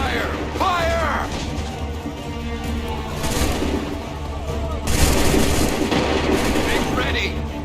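Gunfire erupts after shouted commands to fire, a rolling series of shots and booms, moderately loud under and between the spoken orders.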